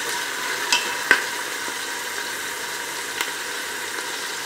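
Ginger garlic paste sizzles in hot oil for a palak gosht mutton curry, a steady close hiss broken by a few sharp clinks of stirring, with no talking.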